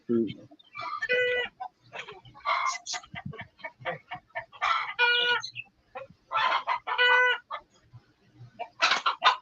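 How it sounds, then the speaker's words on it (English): Backyard chickens cluck and squawk in bursts, with a rooster crowing among them, loud and close, and brief quiet gaps between the calls. "Hold on, I'll calm my chickens and come back."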